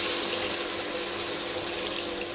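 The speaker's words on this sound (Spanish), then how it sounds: "Y echamos el agua." A steady, loud rush of water pours continuously into a GM G cooking pot for a fish stock, filling the whole moment without pause or speech.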